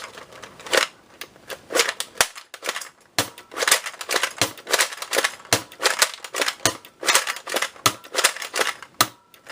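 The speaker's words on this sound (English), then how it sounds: "That's got a nice sound to the plunger tube." Rapid, sharp plastic clacks and snaps repeat in quick bursts, an Adventure Force Battle Blazer toy dart blaster's spring-loaded plunger being cycled over and over, close and crisp with no talking.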